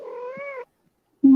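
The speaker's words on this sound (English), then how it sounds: "my kitty. Did you hear that?" A house cat gives one clear, fairly loud meow close by, then falls quiet. A short burst of another sound cuts in at the end.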